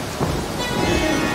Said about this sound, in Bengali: আকাশ ভেঙে বৃষ্টি নেমেছে, বিজলি চমকাচ্ছে বারবার।